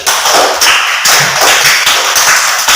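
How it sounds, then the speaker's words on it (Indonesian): Group hand clapping from students in a school classroom: loud, close, continuous applause with a steady pulsing rhythm that lasts throughout. "Kita berikan tepuk tangan sekali lagi."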